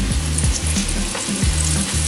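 Chicken pieces frying in hot vegetable oil for Indian-style fried chicken, a steady close sizzle and crackle with low bubbling underneath, continuous throughout with no talking.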